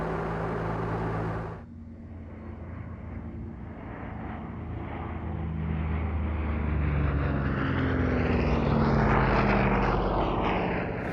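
Propeller airplane making a low pass over an airfield, engine drone swelling as it approaches and rising to a loud, rough roar near the end, after a brief cut at the start.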